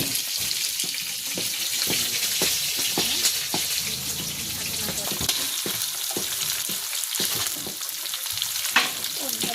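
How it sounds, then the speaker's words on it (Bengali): Fish frying in hot oil in a pan in a village kitchen makes a continuous crackling sizzle, broken by repeated clattering scrapes of stirring. "মাছটা সুন্দর করে ভাজবে।"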